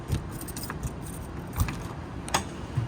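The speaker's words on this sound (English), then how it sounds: "Let me pull my keys out. We'll unlock the back door." A bunch of keys jingles and clicks near the back door lock of a 2024 Forest River Salem Platinum 28FKGX travel trailer, with small irregular metallic taps scattered across a few seconds, close and fairly quiet.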